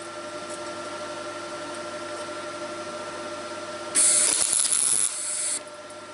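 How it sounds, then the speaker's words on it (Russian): A semi-automatic MIG welder lays a brief lap-joint tack weld, heard as a sudden loud crackling, hissing burst of roughly a second over a steady machine hum, followed by quieter hissing that soon cuts off. "опять включаем полуавтомат. И делаем ту же самую прихватку, но уже внахлёст."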